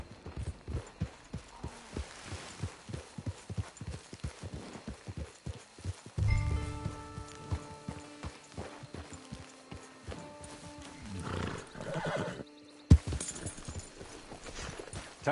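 Horse hooves clip-clop steadily in the Red Dead Redemption 2 video game, a close rhythmic trot under game music, with a neigh partway through and the hoofbeats easing off near the end.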